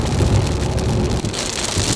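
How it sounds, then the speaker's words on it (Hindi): Heavy rain keeps falling near a roadside in rural Pennsylvania's Amish area, a loud unbroken wash of pattering drops that thins slightly partway through. "ये देखो भाई, अभी बारिश आने लग गई"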